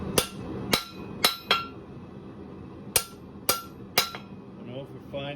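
A blacksmith's hammer strikes a metal bar in two bursts of sharp ringing blows, three or four evenly spaced hits each, close and loud over a low workshop hum.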